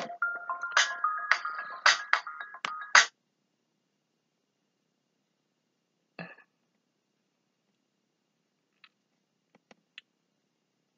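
A phone ringtone plays a short melodic chime pattern of several bright beeping tones for about three seconds, then cuts off, leaving near silence broken by a few faint clicks.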